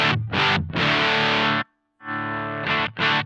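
Electric guitar through a Love Pedal Woman-Tone pedal at full volume, loud distorted chords struck in several bursts with a short silent gap midway, no voices.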